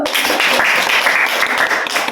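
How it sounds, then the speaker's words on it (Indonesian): Students in a classroom clapping their hands together in a dense, continuous burst of applause, close and fairly loud, with no talking. "Tepuk tangan dulu."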